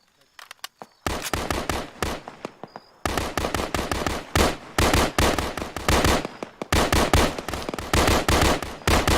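Gunfire in the Arma 3 military simulation game: loud, rapid bursts of automatic weapon fire in repeated volleys, with short pauses between strings of sharp cracking shots.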